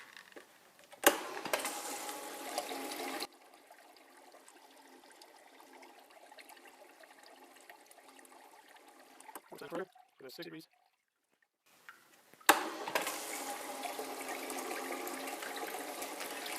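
Water runs over a dredge concentrate separation table used for reprocessing Idaho dredge tailings, a steady wash that swells loud, drops to a quieter trickle for a long stretch, briefly cuts out, then returns at full strength.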